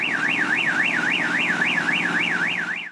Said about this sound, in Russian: Хунда громко протестует звуком сигнализации, но покоряется неизбежному.